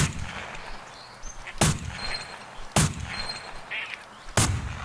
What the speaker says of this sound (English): That's some fine shooting, John Luke.